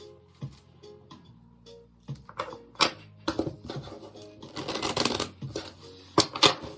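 Kipper oracle cards shuffled up close, with riffling and snapping bursts that grow denser midway, then a few sharp card slaps at the end, and no talking.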